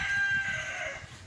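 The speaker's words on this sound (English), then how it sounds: "anybody want a free rooster, just comment in the section below, and you can just come around by and pick him up" A rooster crows outdoors, one drawn-out cock-a-doodle-doo that is loud and close, with faint clucking from other fowl around it and no talking.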